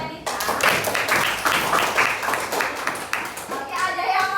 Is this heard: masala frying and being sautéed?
no